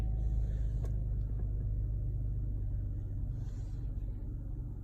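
A 2021 Cadillac XT5 with a 3.6-litre V6 idles steadily after starting, giving a constant low rumble from inside the car with no talk.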